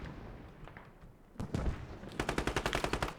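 Gunfire breaks out in a competitive squad video game match: a burst of shots, then a rapid rhythmic string of automatic fire, loud and close after a quieter lead-in.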